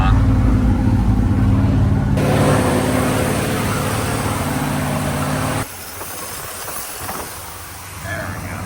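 A 1980 Dodge Power Wagon engine idling high, a loud steady rumble with hiss that changes character partway through and then drops lower and quieter.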